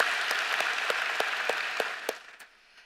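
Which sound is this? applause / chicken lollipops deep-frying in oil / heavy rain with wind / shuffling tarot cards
applause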